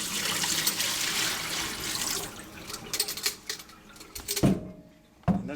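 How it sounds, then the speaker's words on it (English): Fluid poured out of an internal jugular catheter ultrasound model, a close splashing stream of liquid that breaks into a few louder glugs and splashes before stopping. "You can then pour out the fluid."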